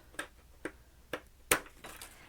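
Tim Holtz scissors cutting through card stock along a template, a few crisp separate snips spaced about half a second apart, close and fairly quiet, with no talking.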